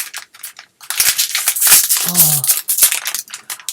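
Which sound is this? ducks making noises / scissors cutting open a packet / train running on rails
scissors cutting open a packet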